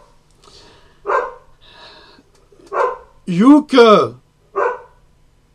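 A dog barks on a street with people about, several sharp close barks mixed with a few short yips and a voice speaking.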